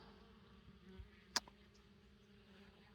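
Honey bees hum steadily around an Apimaye beehive, a low, faint continuous buzz heard close by with one brief sharp tick partway through and no voices.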